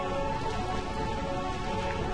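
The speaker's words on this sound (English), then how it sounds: "I love rain." Steady rain falling in Burmecia, a rain-soaked city in the video game Final Fantasy IX, a continuous hissing wash with no distinct drops, at a moderate level throughout.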